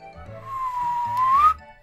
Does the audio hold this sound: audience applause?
no